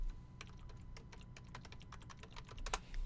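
Rapid typing on a computer keyboard, a steady patter of close, crisp key clicks running continuously with a few louder strikes near the end, no voices.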